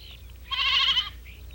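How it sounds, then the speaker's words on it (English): A single goat bleats once, a short wavering cry lasting about half a second against a quiet low rumble. "The poor goats don't even know where we're taking them."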